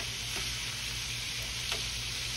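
Chicken wings fry in a hot skillet, old-school style, giving a steady, close, even sizzle with faint stirring clicks and no talk.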